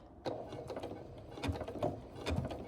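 A home sewing machine makes a few slow, single stitches on a quilt corner, giving soft separate mechanical clunks and clicks spaced about half a second apart, close and fairly quiet.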